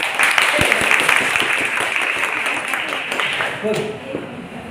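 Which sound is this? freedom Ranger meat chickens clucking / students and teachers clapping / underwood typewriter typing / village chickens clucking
students and teachers clapping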